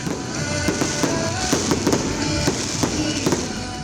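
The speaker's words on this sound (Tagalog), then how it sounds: "Nagdugang pa sa kasadyang matahom nga fireworks display." A Christmas fireworks display in Pototan, Iloilo, pops and crackles continuously, with sharp bangs repeating irregularly over a dense, sizzling background roar.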